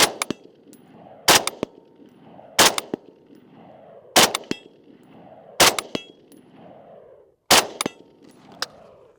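A Steyr AUG rifle fires at distant steel targets outdoors: about six sharp, loud shots spaced a second or two apart, each followed by a bright metallic clang ringing off the steel.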